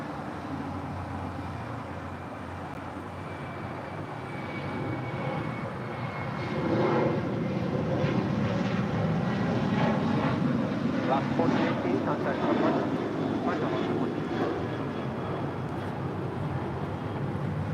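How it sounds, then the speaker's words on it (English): Alaska Airlines Boeing 737-800 departing at LAX, a broad jet engine roar that swells louder midway and holds steady at a distance, with people talking over it. "That is Alaska Airlines 1418 departing to Guadalajara on a 737-800."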